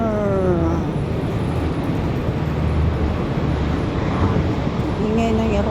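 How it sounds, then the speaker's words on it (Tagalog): A loud airplane roar passing overhead with wind rumble, a steady engine drone dominating, while a tonal whine rises faintly in the background. "Ingay ng eroplano."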